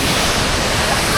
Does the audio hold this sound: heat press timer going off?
no